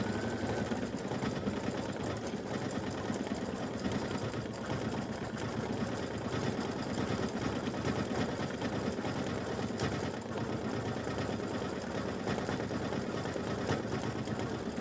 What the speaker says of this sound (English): now it's stitching the way it should have.